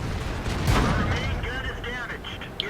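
Tank cannon fire in the online game World of Tanks, a heavy boom with a rumbling tail followed by metallic ringing impact and clanking sounds, with a commentator talking over it.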